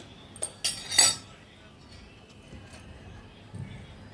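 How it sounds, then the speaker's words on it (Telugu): Metal spoon tapping and clinking against a bowl while adding about two spoonfuls of seeds to soaked oats, a few quick clinks near the start followed by quiet, close-up and moderately loud. "అన్నీ ఒక 2 స్పూన్స్ ఆఫ్ సీడ్స్ వేస్తున్నానండి"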